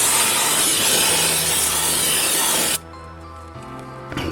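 A loud, steady aerosol spray hisses for nearly three seconds onto a Honda Accord front brake caliper bracket, then cuts off abruptly, leaving quieter ringing and clinks afterward.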